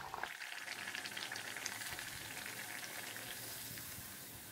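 Rolled dough for balloon poori frying in hot oil, a steady dense sizzle that rises sharply at the start and holds loud and close throughout, with no talking.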